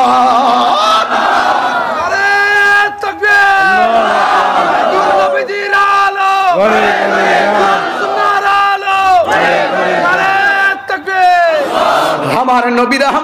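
A large crowd at a Bangla Islamic waz sermon gathering shouts Allahu Akbar in answer to a takbir call. The loud, massed voices rise and fall in several repeated chant waves that fill the whole stretch.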